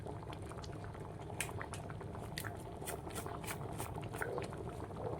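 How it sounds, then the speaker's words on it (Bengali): Lentil dal cooked with a fish head bubbles steadily in a pot, a dense, continuous soft simmering with small pops and gurgles, close and quiet, with no talk. "এই যে বন্ধুরা, ডাল আমার ফুটে গেছে।"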